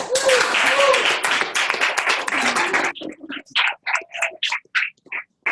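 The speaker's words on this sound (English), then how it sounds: "give a rousing round of applause" Loud applause from a crowd fills the first few seconds, with cheers mixed in, then breaks off into a voice talking.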